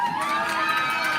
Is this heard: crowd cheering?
yes